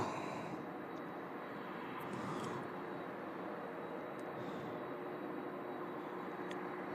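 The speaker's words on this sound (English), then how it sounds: "Here comes the MD-11 coming in from Ontario." An MD-11 airliner arriving from Ontario lands at Louisville International Airport, heard as a steady broadband jet roar with a low hum, constant and moderately distant for several seconds.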